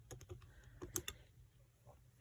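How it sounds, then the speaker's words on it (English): Quick bursts of key presses on a calculator keypad, tapped in an irregular rhythm, close and fairly quiet, with no talking. "I'm typing in exactly how this looks"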